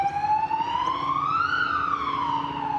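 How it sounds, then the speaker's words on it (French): An ambulance drives past outdoors among trees, its siren a single long tone rising and then falling as it passes, over a steady background rumble of traffic. "C'est une ambulance."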